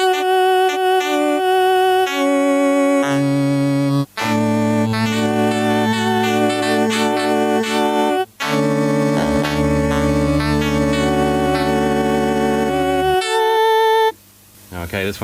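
A Casio Casiotone 403 analog keyboard plays a tone with vibrato, a loud melody of wavering sustained notes with deep bass held underneath, ending in a glitchy burst.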